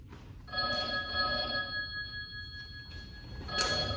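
Telephone bell ringing in a quiet room, a steady electric ring lasting a couple of seconds, then a brief second burst after a pause; no voices.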